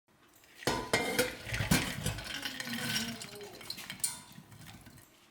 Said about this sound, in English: put the blueberries in a pot to cook them down.